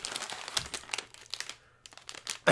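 Close crinkling and crackling of a plastic Oreo cookie wrapper being tugged and worked open, in bursts with a short pause near the end, no talking.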